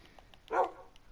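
A single short dog bark from a Minecraft game, fairly faint and quick, over quiet background with a few soft ticks around it.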